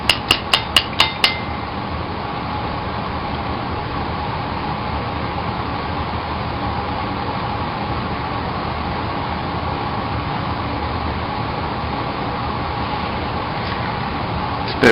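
Hard taps on a longboard bearing as it is knocked back into its wheel, five or six sharp, evenly spaced strikes in a quick burst, then a steady broadband hiss fills the rest.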